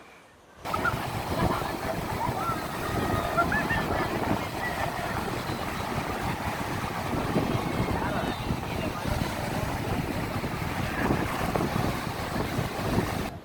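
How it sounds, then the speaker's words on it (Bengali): Strong wind roars steadily against the microphone at Ramakrishna Beach, Visakhapatnam, a constant gusty rush that may carry distant surf underneath. "আরকে বিচে খুব হাওয়া দিচ্ছে প্রচুর হাওয়া"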